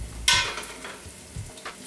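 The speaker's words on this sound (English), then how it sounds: "So we're going to add that in and stir it up." Flour being stirred into a cheese sauce in a pan for apple-sausage mac and cheese, a close scraping stir with light sizzling that opens with a bright burst and then settles into softer, intermittent movements.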